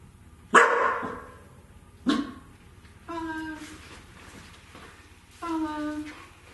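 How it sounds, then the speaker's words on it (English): A Border Collie puppy barks indoors: two sharp separate barks, then two longer tonal, whining barks, close and fairly loud with pauses between. "She hears a noise, thus the bark."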